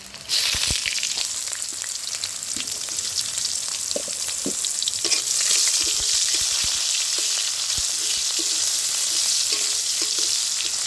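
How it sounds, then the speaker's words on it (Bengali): Whole cumin, dried chilli, bay leaf and chopped onion frying in hot oil, a steady dense sizzle lasting throughout with occasional stirring clatters and pops, no talking. "পেঁয়াজটা একটু ভেজে নিয়েছি"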